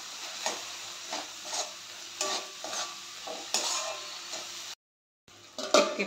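Spices with salt, turmeric and chili powder stirred into a snack mixture of wheat flour and moong dal in a pan, with repeated spoon scrapes over a steady sizzle and a brief dropout near the end.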